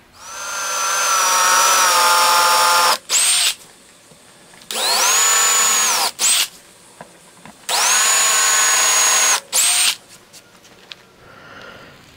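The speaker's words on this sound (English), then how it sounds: "But now I know just to drill to that tape line." A power drill bores holes into a wooden end table in three long, loud whining bursts, each spinning up and then cutting off, with short quiet gaps and small handling clicks between them.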